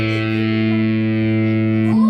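A sustained, buzzy distorted electric guitar tone held steadily through an amp, rich in harmonics, loud, then changing abruptly near the end.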